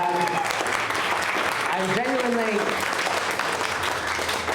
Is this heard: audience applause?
yes